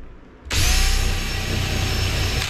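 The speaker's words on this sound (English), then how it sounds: "Just drill it in." A power drill starts abruptly, driving into wood, and whines loudly and steadily for about two seconds, close up, before cutting off.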